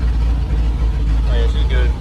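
The engine of a 70-year-old farm truck idles with a low, steady rumble while the throttle is eased, holding an even drone throughout with a few faint higher tones near the end.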